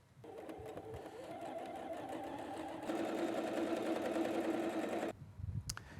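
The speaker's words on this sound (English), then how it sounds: "we're going to sew this in place with a 1/4 inch seam" A sewing machine runs steadily for about five seconds, stitching a long quarter-inch seam on quilt pieces, then stops abruptly, followed by a few soft handling clicks.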